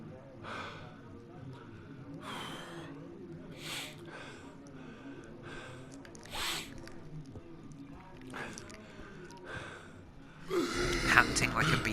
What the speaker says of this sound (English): Panting like a beast.